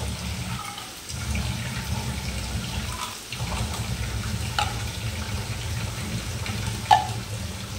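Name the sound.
water poured into ground spice paste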